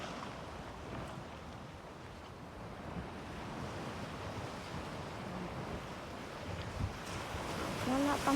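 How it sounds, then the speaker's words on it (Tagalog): Sea waves wash steadily at Warwick Long Bay beach in Bermuda, a continuous, moderately loud surf hiss with gentle swells and some wind, with no talking over it. "Yan ang dagat."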